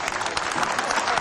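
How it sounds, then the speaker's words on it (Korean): Audience applause for a monk's sword performance, a short dense burst of clapping that stays steady and fairly loud throughout. "사람들은 박수를 보냈다"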